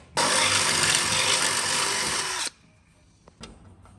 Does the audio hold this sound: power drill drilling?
yes